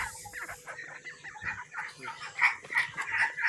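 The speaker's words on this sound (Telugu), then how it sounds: "మన ఇంటి దగ్గర ఉన్న కోళ్ళు కూడా" Chickens cluck at a farm shed with steady broken clucking, moderately close, that grows louder and busier toward the end, with no talking.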